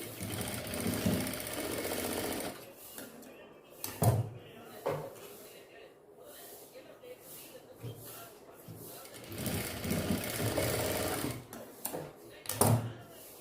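A sewing machine stitches the shoulder seam of a small doll dress in bursts of whirring separated by short pauses and a few clacks of handling, close by, with a voice speaking in Tamil at times.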